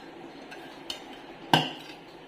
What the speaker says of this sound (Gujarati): અત્યારે ગરમ છે એટલે હું ચમચાથી મિક્સ કરું છું